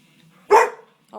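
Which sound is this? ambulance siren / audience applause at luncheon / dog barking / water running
dog barking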